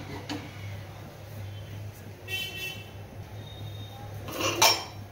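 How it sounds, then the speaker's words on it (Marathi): A metal wok clanks down onto a lit gas stove with a short scrape and a sharper knock near the end, over a steady low hum. "आता गॅसवर कढई ठेवूया."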